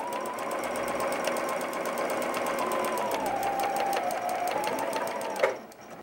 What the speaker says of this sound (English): So always do a little back stitch when you're sewing that.